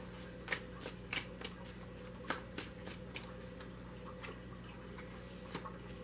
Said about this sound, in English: I'm going to keep shuffling.